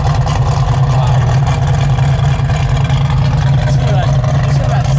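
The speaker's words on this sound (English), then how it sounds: "The dual exhaust sounds great." A 1972 Plymouth Cuda idling through its dual exhaust, a steady deep rumble held close and loud for the whole stretch, with people talking faintly over it.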